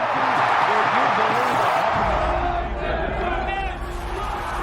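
A large crowd of over 54,000 at a baseball stadium in Oakland roars in a loud, sustained wash of cheering and babble that eases slightly toward the end, with a voice speaking over it.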